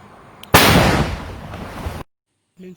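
A single loud bomb blast from footage of fighting in La Republique, a sudden boom with a roaring, crackling tail that fades over about a second and a half before cutting off; a faint voice follows.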